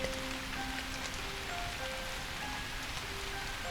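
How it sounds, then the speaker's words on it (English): Gentle rain falls outside as a soft, even patter, quiet and distant, with no other sounds standing out. "the gentle rain that continues to fall outside."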